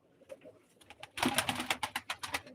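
A pigeon at a live pigeon auction, close by: a few soft sounds give way to a loud run of rhythmic, evenly spaced bursts lasting about a second and a half.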